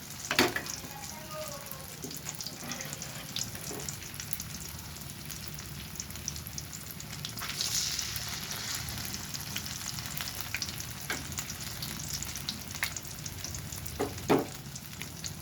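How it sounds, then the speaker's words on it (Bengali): Battered brinjal slices and potato chips deep frying together in hot oil, a steady broadband sizzle throughout with occasional stirring clinks and a brief louder burst near the end, a faint voice in the background. "আলু চিপসের সাথে বেগুনের বেগুনি ভাজা হয়ে যাচ্ছে দেখেন"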